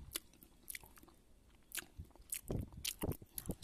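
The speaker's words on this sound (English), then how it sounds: "I can chew the lumps of the sugar." Close-up chewing of cassava suman containing lumps of sugar: moist, sticky bites mixed with sharp crunchy crackles, irregular and intimate, growing denser toward the end with no talking.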